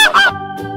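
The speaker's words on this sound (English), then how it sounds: "Goose." A goose gives two quick, loud, nasal honks close by, the second shorter and fainter, with no talking.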